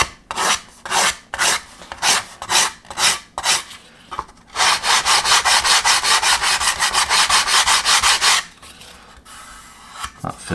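Sandpaper of 220 grit rubbing along a wooden model ship hull, a Heller 1/200 Elizabethan galleon, in quick rasping strokes, then a longer steady scrubbing run before pausing; close and fairly loud, no talking.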